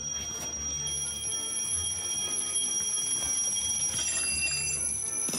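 An alarm clock rings in a steady, continuous high electronic tone that holds for several seconds. A constant background rumble sits beneath it.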